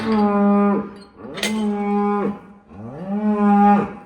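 Cattle on a farm give three loud, close, drawn-out moos in succession, each rising and then sagging at the end, with short pauses between them.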